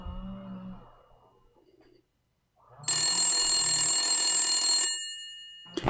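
An old phone rings on an outgoing call, a steady bright electronic ring lasting about two seconds after a brief quiet stretch and some faint low murmur.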